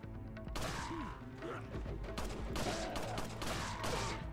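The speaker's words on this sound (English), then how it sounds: "God, this gun fires real fast" A fast-firing gun in a horror action video game lets off a rapid burst of shots, a dense crackling volley of sharp reports with clattering impacts, starting abruptly after a brief quiet moment and continuing steadily.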